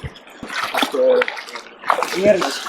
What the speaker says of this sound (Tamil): தண்ணி இது வரைக்கும் அலை அடிக்குது பாருங்கள் அலை அடிச்சுட்டே இருக்குது